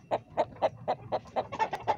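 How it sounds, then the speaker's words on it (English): Big exotic chickens from Poland cluck in a quick, even series of about nine soft clucks, close by and fairly quiet. "Some big chickens."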